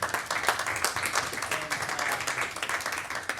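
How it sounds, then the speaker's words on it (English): Applause for author Evan at a meetup book signing, a steady, dense patter of many hands clapping at moderate volume from a modest crowd, sustained throughout. "That's another round of applause for Evan."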